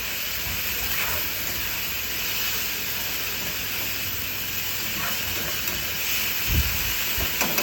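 Steady, even hiss of steam escaping a covered pan of potato stir fry cooking on the stove, continuous and fairly close, with a few faint clinks and no talking.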